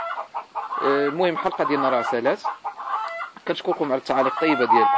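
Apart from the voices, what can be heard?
chickens clucking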